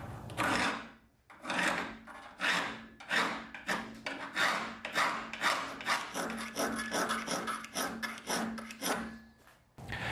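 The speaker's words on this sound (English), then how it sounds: "Now I can clean up the gullet profiles with rat tail and chainsaw files" Repeated rasping strokes of rat tail and chainsaw files on the steel teeth of a 1904 Simonds crosscut saw, rhythmic and close, each pass a harsh scraping burst with brief pauses between.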